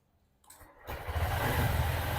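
A Honda SP 125 BS6 motorcycle engine starts after a brief click and crank, then settles into a steady, close, rumbling idle.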